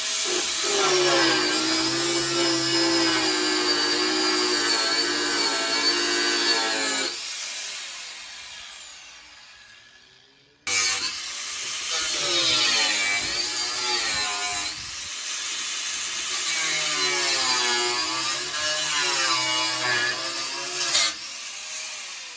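A power saw grinds steadily through a metal bolt for several seconds, stops briefly, then resumes with a wavering, rasping whine until the end.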